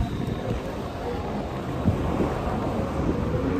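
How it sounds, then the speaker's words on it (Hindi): Low rumbling thunder rolls beneath a steady wash of rain and wind noise on a UK street, the rain beginning as big drops fall, continuous and moderately loud throughout. "बारिश स्टार्ट हो गई है।"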